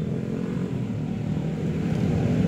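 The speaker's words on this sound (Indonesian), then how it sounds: "Terus ini kan ya motor berisik banget ya, lewat-lewat dari tadi" Motorcycles passing noisily along a city street, a continuous low engine rumble with rising and falling drone, fairly loud and steady, with no talking.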